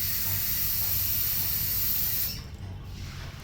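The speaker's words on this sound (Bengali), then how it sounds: "তোমরাও শোনো কি জোরে গ্যাস বেরোচ্ছে।" Cooking gas hissing out hard from a leaking washer on a newly fitted cylinder in a home kitchen; a loud, steady, close rushing hiss that suddenly drops and thins after about two seconds, with no talking.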